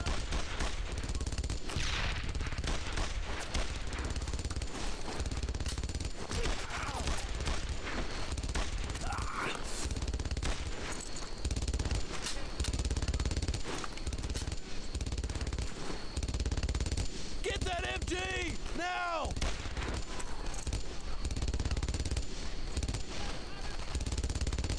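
Heavy combat in the World War II shooter Brothers in Arms: Earned in Blood, with sustained machine-gun fire and rifle shots crackling in continuous loud bursts, booming impacts mixed in, and voices calling out over the shooting.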